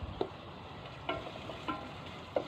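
Faint sizzling of onion frying in a pan, with a few soft clicks and stirring taps scattered through a steady low crackle.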